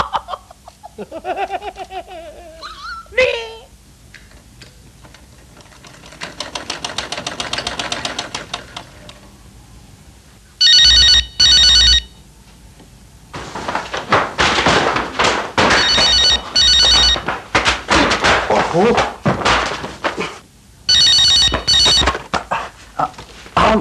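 Telephone bell ringing in a classic PTV drama scene, repeated bursts of electric ringing in short rhythmic patterns, loud and close, separated by pauses with some background voices.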